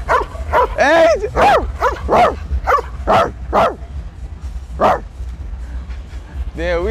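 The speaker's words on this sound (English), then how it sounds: "we had a barking contest. I don't want no smoke with that German Shepherd." A German Shepherd barks outdoors in Miami, a series of loud, close, sharp barks in irregular bursts, with a voice answering in bark-like yelps between them.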